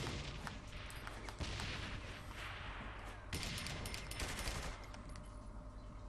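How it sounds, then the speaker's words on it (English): Bursts of automatic gunfire in the video game Saints Row the Third, rapid crackling volleys in clusters with short pauses between, fairly loud and close throughout. "Who's that shooting at me?"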